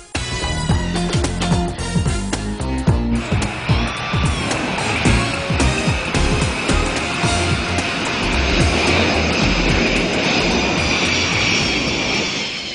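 A Turkish Airlines airliner landing, its jet engines giving a loud, steady roar with a whining tone that swells and holds throughout, mixed with other busy sound.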